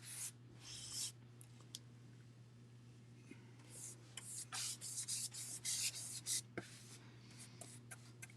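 A paintbrush applies paint over a surface in soft, scratchy bristle strokes that come in uneven bursts, quiet and close, over a steady low electrical hum.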